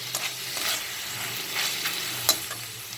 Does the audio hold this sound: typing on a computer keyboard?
no